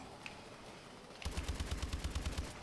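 Rapid gunfire in a zombies video game: a fast, rhythmic string of about a dozen loud shots starts suddenly after a quiet stretch and continues to the end.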